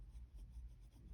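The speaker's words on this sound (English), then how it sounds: "So I'm going to write the name here without" Stainless steel nib of a Pilot Elite fountain pen, inked with black cartridge ink, scratching lightly across paper in a brief, faint, close stroke of writing.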